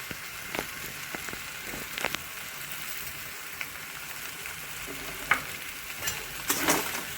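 Yellow potatoes tossed with salt sizzle softly in a pan on a home stove, with scattered quiet clinks and scrapes of stirring throughout.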